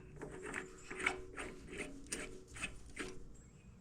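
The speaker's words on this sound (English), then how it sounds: "spin this guy counterclockwise until it stops on the piston stop" Lambretta TV175 scooter flywheel being turned counterclockwise by hand, giving a close, steady series of light mechanical clicks and ticks with no talking.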